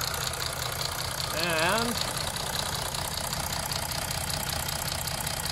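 A Mercedes OM642 diesel engine idles steadily during an injector leak-off test, its even rumble running throughout, with a single brief spoken word near the middle.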